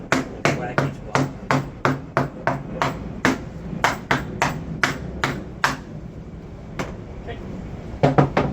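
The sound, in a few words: hammer or mallet whacking blocks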